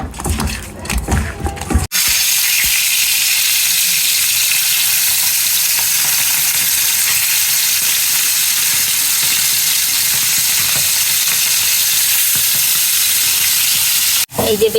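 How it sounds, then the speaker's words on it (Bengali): Chili and onion frying in hot oil for a fish curry, a loud, continuous close sizzle that holds steady for most of the stretch, with brief stirring and handling noises at the start and end. "এই যে বেশি করে মরিচ আর পেঁয়াজ দিয়ে লাল লাল করে ভেজে নিছি"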